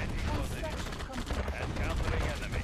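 Tanks firing in the Red Alert strategy game during a base assault, a dense, continuous barrage of overlapping shots and impacts that stays loud for the whole stretch.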